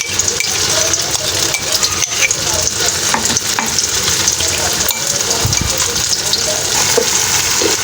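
A ground paste of ginger, garlic, onion and yogurt fries loudly in a pan with cumin, a dense steady sizzle with a spoon scraping and clinking as it is stirred, close and without talk.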